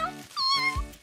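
A cat meows in a cartoon, a single drawn-out meow with a rising then falling tone, close and clear, alone with no talk.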